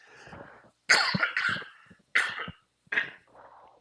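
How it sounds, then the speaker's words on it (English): Several harsh coughs in quick bursts, close to the mic, separated by short silences. "excuse me, I was coughing there."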